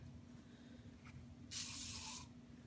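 A short burst of silicone aerosol spray onto a cup hisses for under a second, loud and close, after a quiet stretch with faint background hum.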